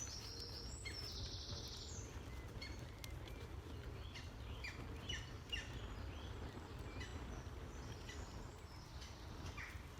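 Faint high chirping calls from a baby woodpecker repeat in the distance in woods, over a steady outdoor hum, with a few brief bursts standing out early on.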